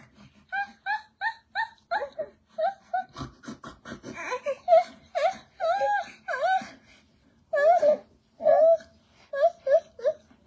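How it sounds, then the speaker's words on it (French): A three-month-old baby cries in rhythmic, wailing bursts, close and loud, with short breaths and gaps between the sobs. "Maman ne supporte pas de t'entendre pleurer."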